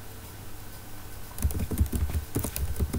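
Brisk typing of code on a computer keyboard starts after a quiet hum and continues as a close, uneven patter of keystrokes.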